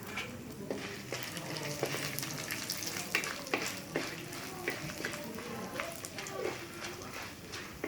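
Ingredients for curry leaf thuvaiyal, including dal, dried chillies and garlic cloves, fry in oil, giving a continuous crackling sizzle up close with frequent sharp pops and the occasional scrape of stirring.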